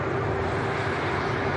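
An Airbus A350-1000 airliner arriving at Manchester Airport, heard as a steady, broad jet engine roar with a faint whine, constant in loudness throughout.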